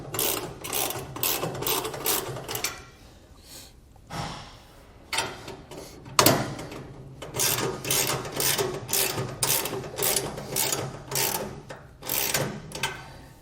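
Wrench tightening U-bolt nuts on a CE Smith bunk-style guide-on frame bracket of a boat trailer, heard as repeated bursts of close, rhythmic ratcheting clicks with short pauses between sets of turns, and no talking.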